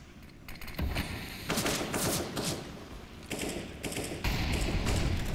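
Rapid AK rifle bursts in a Counter-Strike match on Cobblestone, a steady stream of close gunfire in clustered volleys with thuds between, loud throughout and with no voices.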